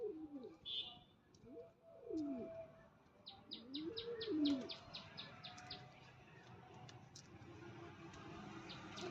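Native pigeons in a rooftop loft coo in low, rolling phrases, several in a row, with brief chirps and light background noise around them.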